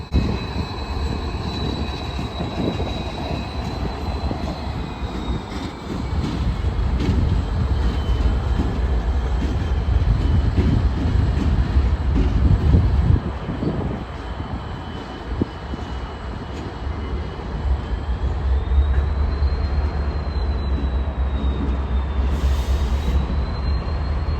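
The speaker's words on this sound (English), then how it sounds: "Our first train would be an intermodal switcher pushed by CP SD60 6222" A CP SD60 locomotive, number 6222, pushes an intermodal switcher train past at a steady roar, its wheels grinding and squealing on the rails as the rumble swells midway and then fades slightly.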